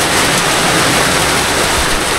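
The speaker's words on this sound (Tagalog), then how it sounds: "Inabutan na kami ng ulan." Steady, loud rain falling outdoors, a dense broadband hiss that stays even throughout while people shelter under shade during a family birthday gathering.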